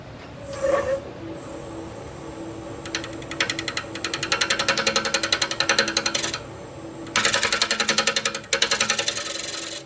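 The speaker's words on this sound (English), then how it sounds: "I'm going to use a carbide scraper" A carbide scraper takes light passes across a wood bowl spinning on a lathe, giving bursts of rapid, rattling scraping that start and stop over a steady motor hum, with no talking.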